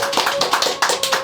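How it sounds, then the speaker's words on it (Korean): Audience clapping to welcome the CEO of Meritz Asset Management onto a Korean talk stage, a sparse, uneven patter of hands in distinct bursts rather than a full roar, fairly close and moderately loud. "큰 박수 부탁드립니다."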